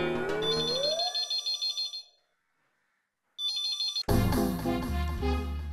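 Electronic phone ringtone in a Hindi TV sitcom, a bright musical tune that pulses in repeated bursts, pauses into silence, then resumes before a louder burst of music takes over.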